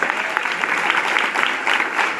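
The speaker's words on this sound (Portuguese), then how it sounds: "Aplaude o Senhor Jesus pela vida dele." Church congregation applauding at a night vigil of thanksgiving, loud and dense clapping that holds steady throughout, with no talk on top.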